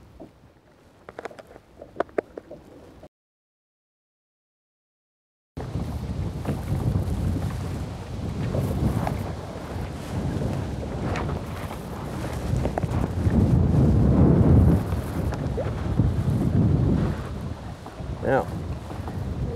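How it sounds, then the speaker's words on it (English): Strong wind buffets and roars outdoors at Colebrook Reservoir, gusting louder and softer over many seconds after a brief silent gap and some faint clicks. "It's getting way too windy out here."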